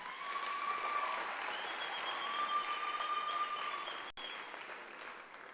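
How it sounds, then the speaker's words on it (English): Audience applause fills the hall at an academic-year opening ceremony after a choir and band perform, a sustained round of clapping with a faint tonal hum beneath that gradually thins out. "A round of applause once again."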